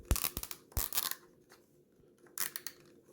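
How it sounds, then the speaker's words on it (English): A plastic zip tie on a Bell and Howell Bionic Trimmer being fed through its lock and pulled tight, giving several close, sharp ratcheting rasps in bursts with short pauses between, no talking. "And then you feed it through the zip tie just like you would a normal zip tie."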